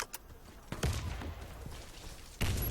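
Rapid bursts of gunfire and explosions in a shooting video game, a sharp blast near the start and another loud burst near the end over steady rumbling action.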